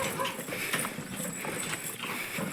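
Hooves of young bullocks walking along a road give a steady, close clip-clop of repeated footfalls over a constant background hum.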